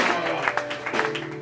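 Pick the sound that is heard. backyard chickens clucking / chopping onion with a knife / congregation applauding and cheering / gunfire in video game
congregation applauding and cheering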